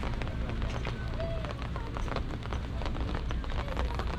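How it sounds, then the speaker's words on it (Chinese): Heavy rain pouring down steadily around a car on a drive near a peregrine falcon nesting cliff, a dense, continuous wash of drops hitting surfaces close by, with no talk. "下大雨啊"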